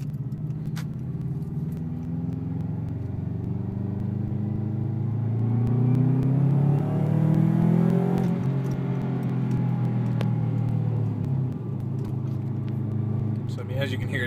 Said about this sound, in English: as you can hear, it does get a little aggressive with wide open throttle